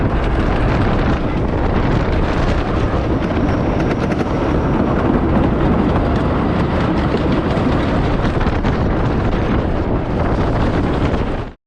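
Two racing roller coasters at Blackpool Pleasure Beach make a loud, continuous roar of rushing train wheels and wind that holds steady for the whole stretch before cutting off abruptly at the end.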